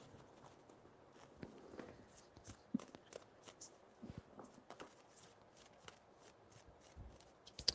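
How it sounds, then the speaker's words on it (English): Tarot cards are shuffled quietly and close by, giving soft riffling and slapping bursts with scattered taps and rustles over about eight seconds of otherwise near-silence. "Three shuffles."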